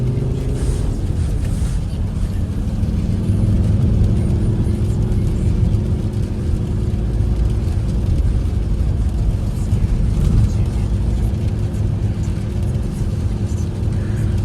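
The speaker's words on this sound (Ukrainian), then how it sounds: "звук цього двигуна" A Volvo XC60 engine idles with a steady low rumble and hum, even and close by, with no one talking.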